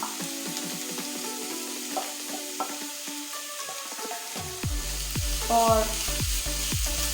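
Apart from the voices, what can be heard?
beetroot added to hot oil with browned garlic, sizzling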